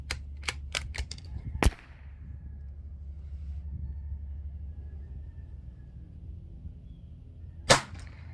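Eley rimfire match cartridges fire in a quick run of five sharp, loud cracks over about a second and a half, then a low rumbling quiet follows before one more close report near the end.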